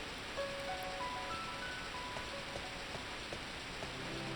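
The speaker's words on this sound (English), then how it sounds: "The black rain has started." Black rain pours in the video game Glory of Heracles, a soft, steady patter of falling drops that continues evenly, with faint tonal game sounds drifting over it.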